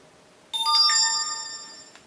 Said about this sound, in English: It's going to play a little merry sound in a minute saying it's discovered there's a flash drive there.